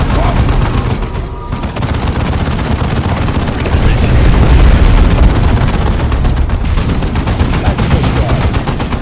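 Dense, continuous gunfire in the video game Dawn of War II, a loud, sustained barrage of rapid shots and booms with voices shouting in the mix.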